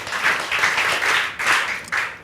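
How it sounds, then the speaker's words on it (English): A class of students clapping together in a classroom, a bright rhythmic burst of claps in several pulses over about two seconds, close and fairly loud. "I'd like you all to give yourselves a worship clap for"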